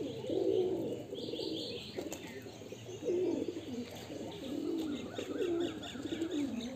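Pigeons coo nearby in a loft with a feeding spot, soft throaty calls repeating in several rounds, with a few faint chirps and wing flutters in the background.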